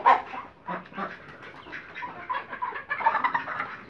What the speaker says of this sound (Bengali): এর মধ্যে এই হাঁস মুরগিগুলি এখানে।